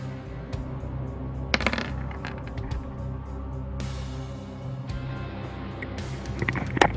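Two dice clatter and rattle on a table during a French tabletop role-playing session, several quick sharp clicks and rolls scattered over a few seconds against a low room murmur.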